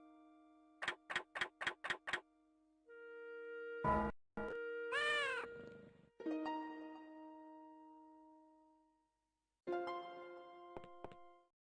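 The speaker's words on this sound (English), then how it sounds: "She's a nice cat." A cat meows in a video game, heard as several short, clear tonal calls alone. A quick burst of ticking clicks opens, then longer sustained tones and chimes sound with gaps of silence between them.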